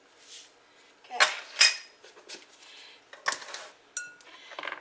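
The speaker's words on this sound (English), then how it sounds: "I mix these in a bowl." Cookie bar ingredients for raspberry oatmeal bars get stirred in a bowl, a handful of sharp clinks and scrapes of a utensil against the dish in irregular bursts, close and alone.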